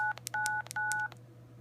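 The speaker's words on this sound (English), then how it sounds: "So that is the weather alert courtesy tone to W8SRC testing." The weather alert courtesy tone of the W8SRC ham radio repeater comes through as three short beeps of paired electronic tones, each about a quarter second long. Quick clicks fall between the beeps, over a low steady hum, and no one talks.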